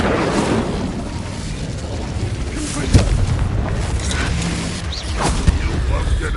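Incendio fire spell in Hogwarts Legacy combat, a rumbling fiery roar with sharp impact booms scattered throughout, loud and close amid other battle noise.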